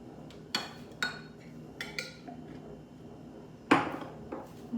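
A metal spoon clinks and knocks against a pot and kitchenware in several sharp, separate strikes, one louder ringing clank near the end, close by in a quiet kitchen with no talk.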